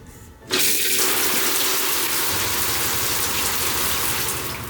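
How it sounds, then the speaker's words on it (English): Shower in a camper van running at full pressure, a steady loud hiss of spraying water that starts abruptly after a brief quiet moment and continues evenly to the end. "Now we'll run the shower and I'm going to slow the pump down."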